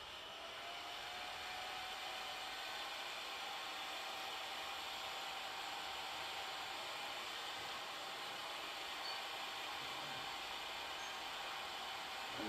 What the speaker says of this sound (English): We switch off our heat gun and obviously we put it down onto something that's not flammable